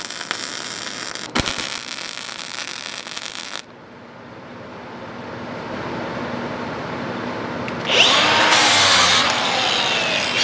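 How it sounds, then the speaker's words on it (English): Welding fills old countersink holes on the top of a folding welding table. Broadband crackle and hiss comes in bursts with short pauses between them, close and fairly loud, with a sharper bright stretch near the end. "Now I'm just going to come along and just fill a little bit of welds in these spots where these countersinks were."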